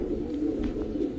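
Giribaz pigeons give a low, continuous cooing murmur up close, a steady throaty drone with faint rustles, over about a second with no speech.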